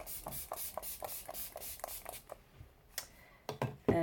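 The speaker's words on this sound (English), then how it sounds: "So I'm going to use my Max Fix Plus first, and I'm going to spray everything." Several short hissing bursts of Mac Fix Plus setting spray misted in a quick, even rhythm, close and fairly faint, trailing off into quiet handling sounds near the end.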